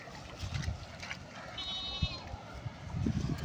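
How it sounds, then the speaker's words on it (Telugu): Goats by a flooded road give a brief, thin bleat in the middle of the stretch, moderately near, over steady outdoor noise with some voices and handling sounds. "ఇక్కడైతే మేకలు చూడండి మేక చూడండి"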